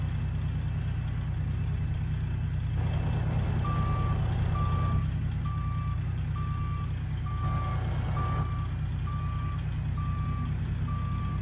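Reversing beeps from a Freightliner Classic XL truck parking in American Truck Simulator, a steady series of evenly spaced tones repeating over a constant low engine idle rumble.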